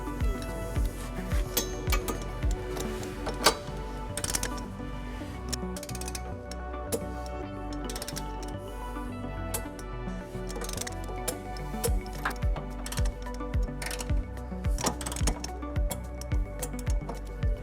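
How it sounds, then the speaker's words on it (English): A ratchet with a 16mm socket and extension tightening trailer hitch bolts on a 2012 Kia Sorento, rapid repeated clicking in bursts with metallic ticks, close and fairly loud, with no talking. "Now we're ready to tighten and torque all of our bolts to the manufacturer specification."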